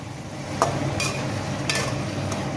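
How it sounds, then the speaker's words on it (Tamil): Onions and tomatoes are stirred in a frying pan, with four sharp spoon scrapes at a regular pace over a low, steady sizzle. "இப்போ இதை நல்லா மிக்ஸ் பண்ணிக்கலாம்."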